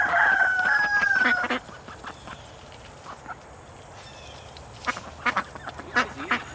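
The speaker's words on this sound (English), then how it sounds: "I like ducks. I mean, ducks seem to have a little more character than chickens" Ducks in a home garden grocery row, just released from their cage, call out loudly in a burst of quacking at first, then drop to scattered softer calls with a few sharp squawks near the end.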